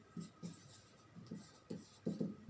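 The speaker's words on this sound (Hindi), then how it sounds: "और यहां लिखेंगे" Chalk or a marker scratches across a board during a class 11 chemistry lecture, in faint, evenly spaced strokes that repeat in short bursts.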